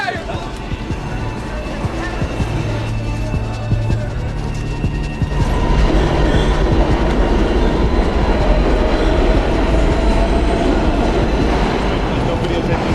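A subway train rumbles past with a rail clatter, loud and close, the roar swelling about halfway through, while people talk over it throughout.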